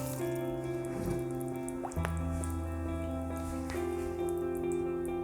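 Cooking pot being filled with water over leftover chicken for broth, a steady close pour with a faint ringing tone and some bubbling.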